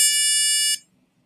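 A low-pitched electronic buzzer from a coding app tone plays steadily for under a second and then cuts off sharply, leaving near silence.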